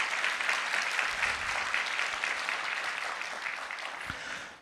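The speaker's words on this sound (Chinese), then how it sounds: "来，掌声鼓励一下。" Applause from guests at a church wedding ceremony, steady, full clapping from a crowd lasting the whole few seconds before tapering off at the end.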